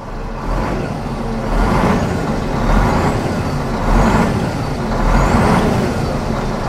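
The engine of a 2008 Scania R420 truck with a million kilometres on it rises and falls in a few slow rev swells over a steady diesel rumble, loud and close, with no voices.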